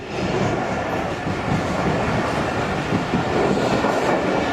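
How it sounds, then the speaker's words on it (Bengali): A train rolls past close by in Bangladesh, its steady loud rumble and rattle of railcars continuing without a break and with no talk. "এটা কি রাজশাহীর ট্রেন?"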